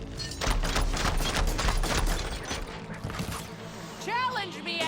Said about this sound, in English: Just gonna break out the machine gun here.